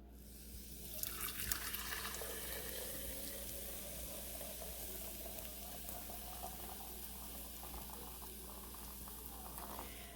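Hot milk pours continuously into a glass jar, trickling and splashing steadily, with a low background hum and no voices.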